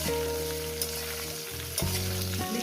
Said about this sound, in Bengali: ঝিঙেটাকে দিয়ে আরও আমি ছ সাত মিনিট এটাকে ধরে এটাকে ভাজবো